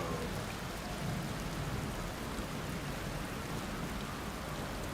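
Rain falls steadily in the video game Outer Wilds, a dense, even hiss of drops that holds at a constant level throughout with no voices over it.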